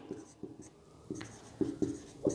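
Notes are written on a board in a Class 12 geography lesson, giving a series of short tapping and scratching strokes at an irregular pace, fairly faint, over a quiet room.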